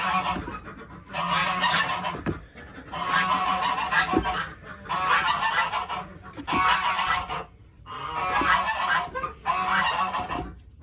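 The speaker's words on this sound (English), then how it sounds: "That really loud one is Beedrill. She is an Emden goose." An Emden goose named Beedrill honks loudly in repeated long, raucous bouts on a free-range farm, each burst lasting about a second or two with brief pauses between, close and dominant.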